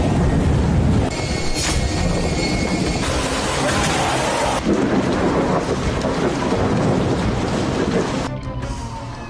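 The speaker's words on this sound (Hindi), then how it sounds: "जबरदस्त आंधी तूफान के बीच चंद घंटों की मूसलाधार बारिश" A violent thunderstorm with torrential rain pours down over a city, a dense, continuous roar of rain and rumbling thunder that stays loud and steady throughout, with a brief shift in texture near the end.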